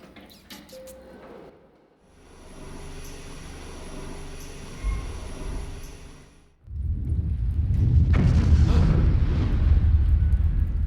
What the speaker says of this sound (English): You hear a thunderous explosion. It sends a shockwave into your very core.